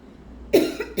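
A single sharp cough close to the microphone, followed quickly by a second shorter cough, in an otherwise quiet room.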